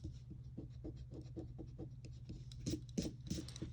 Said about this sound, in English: This time I had a lot of excess lines, so I'm going to go ahead and erase those first.